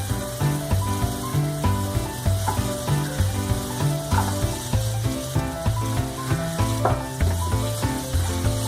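Capsicum fries with spinach in a pan, giving a steady, close sizzle with a rapid crackle throughout.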